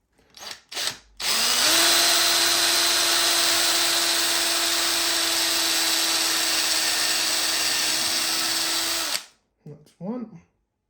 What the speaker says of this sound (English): So let's pre-drill something here.